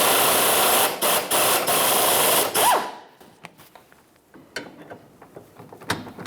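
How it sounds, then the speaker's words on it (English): A power tool with a 14mm socket whirs loudly in short pulses, removing the bottom nut of a rear sway bar link on a 2013-2018 Toyota RAV4. It then stops, leaving light clinks and handling noises. "with a 14mm socket, I'm going to take the bottom mounting nut of that sway bar link off"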